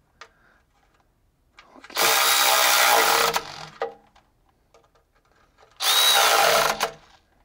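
Power tool snugging the transmission pan bolts on an Allison AT545 transmission in a school bus conversion, two loud whirring bursts of about one and a half seconds each, close up, separated by quiet pauses and small clinks.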